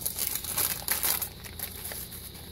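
A small plastic baggie crinkles and rustles as it is opened, a steady close crackling that is loud at first and then eases off to a softer, continuous crinkle.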